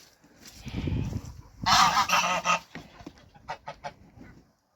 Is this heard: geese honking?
yes